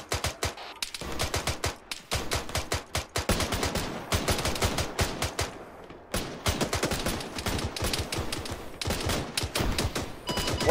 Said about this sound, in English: One is firing grenades.